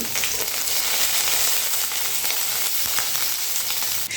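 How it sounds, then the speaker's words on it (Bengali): White mustard seeds and curry leaves frying in hot oil, a dense continuous sizzle with faint crackles and occasional light stirring, close and fairly loud with no talking. "এবারে সর্ষে আর কারি পাতাটা একটু ভালো করে ভেজে নিতে হবে"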